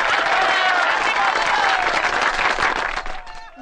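An audience applauds, a dense wash of clapping heard close and loud that fades slightly toward the end, with voices mixed in underneath.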